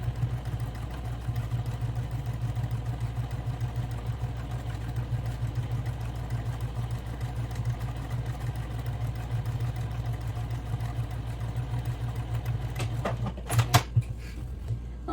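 Home sewing machine stitching a seam on fabric for an eco tote bag, a steady continuous motor hum with even whirring throughout, ending in a short burst of clattering near the close.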